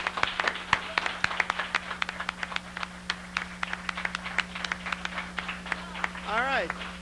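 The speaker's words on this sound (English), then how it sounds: "I'd just like to give a round of applause to everyone who's worked" A round of applause at an annual meeting and awards event, scattered claps from a modest room audience with some irregular gaps, while a speaker's voice continues over and around them.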